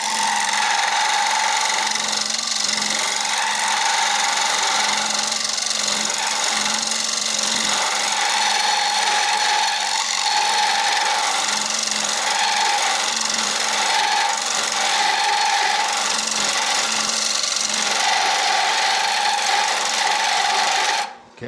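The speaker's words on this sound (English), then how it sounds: "I'm going to take it right here with this hollowing tool" A hollowing tool cuts into a cherry wood bowl on a lathe, producing a continuous close scraping rasp with a steady whirring undertone, with slight pulsing variations as the cut progresses.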